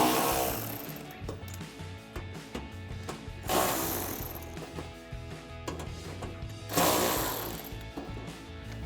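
Ratchet with an 8mm socket removing fender liner screws on a 2019-2023 RAM 1500, a dense run of rapid clicking and mechanical clatter that keeps up close and fairly loud throughout, swelling in brief bursts.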